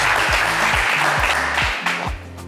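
Studio audience applause on a TV game show, a dense continuous wash of clapping over about two seconds, with rhythmic music beats underneath.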